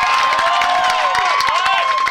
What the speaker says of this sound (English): The Belmont crowd likes the defense.